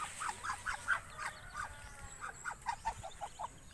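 A duck quacks in a short repeated series of calls, fairly faint against a quiet background, one bird calling over and over.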